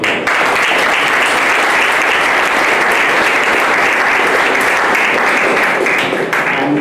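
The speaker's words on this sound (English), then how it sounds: "he deserves a round of applause" Sustained audience applause at a history lecture on the Goa Inquisition, a dense, steady roar of many hands clapping at full volume throughout, close and loud with no talking over it.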